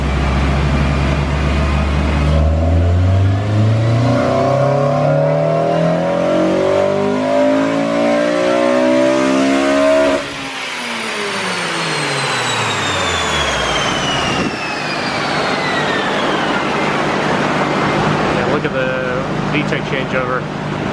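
A Honda Civic Si Mugen engine revs hard on a dyno, rising steadily to a loud high-pitched scream past the VTEC changeover, then dropping off and winding down, with voices talking throughout.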